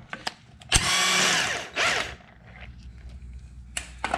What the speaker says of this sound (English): then you just smack it with the impact